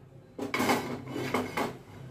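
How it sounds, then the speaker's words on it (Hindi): A metal pot set down on a gas stove burner, with a few clattering knocks and scrapes of cookware close by, no talking. "हम सबसे पहले गैस ऑन करेंगे और उसके ऊपर एक बर्तन रखेंगे"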